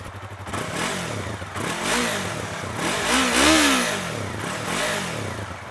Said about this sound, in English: Let's hear what the R3 actually sounds like.